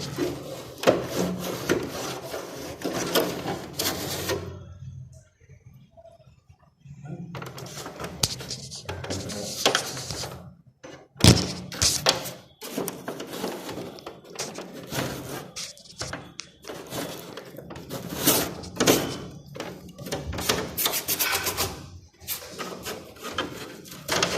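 A small brush scrubs an air conditioner filter with steady, rasping strokes in uneven bursts and a few short pauses, close by, while birds coo faintly in the background.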